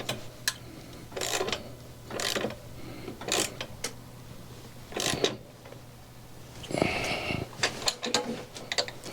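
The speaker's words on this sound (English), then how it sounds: "I probably could have just used my socket for this, which I think I'll use." A socket wrench ratchets in short clicking bursts while loosening a mashed crank on a beach cruiser e-bike, several close, separate spells of rapid ticking with quiet gaps between them.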